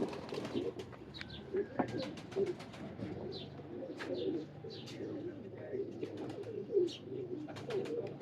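Large black-faced pigeons coo repeatedly in low, soft phrases, with scattered chirps and tweets from other birds over a busy aviary background.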